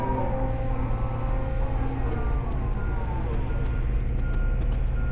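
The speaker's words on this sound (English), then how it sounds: "Second truck is back." A dump truck reverses at a muddy excavation dig site, its backup alarm beeping in a steady, evenly spaced series over a loud, constant rumble of heavy engines.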